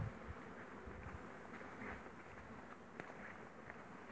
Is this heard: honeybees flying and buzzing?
yes